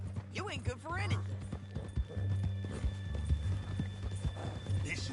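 Horse hooves clip-clop steadily at a walking pace in Red Dead Redemption 2, with occasional snorts, while voices talk over the hoofbeats.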